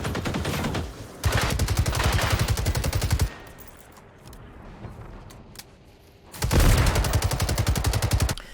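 An AG5 assault rifle fires in the video game Generation Zero, two long loud bursts of rapid even automatic shots, near and steady, separated by a quieter pause with faint clicks.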